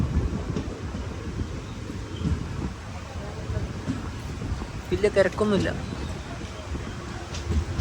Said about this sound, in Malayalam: ട്രെയിൻ ഇതാ കൊട്ടാരക്കര റെയിൽവേ സ്റ്റേഷനിലേക്ക് എത്തിയിരിക്കുകയാണ്